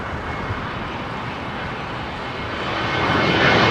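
A British Airways Airbus A320 airliner at Heathrow Airport on a windy day, its steady broadband engine roar growing slightly louder toward the end, mixed with gusting wind noise.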